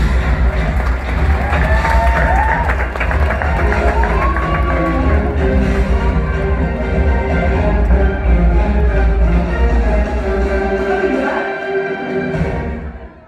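An audience cheers, shouts and claps for a contestant at a live comedy show, a loud dense crowd roar sustained for over ten seconds before it cuts off abruptly.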